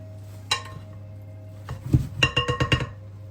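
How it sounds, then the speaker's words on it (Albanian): A utensil stirs a spinach and grated cheese filling for a quick byrek in a bowl, with one sharp clink and then a quick run of close scraping clinks against the bowl, with no talking. "Do vazhdojmë ta përzijim."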